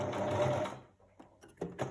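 Household sewing machine stitching steadily and close up for under a second, then stopping, followed by a few soft clicks and handling knocks.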